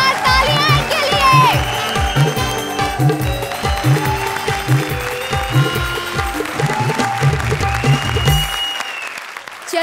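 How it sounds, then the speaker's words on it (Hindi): Loud studio audience applause on a TV comedy show, sustained over about ten seconds with a steady band of clapping, while music and some voices run underneath before it thins out near the end. "जोरदार तालियां के लिए"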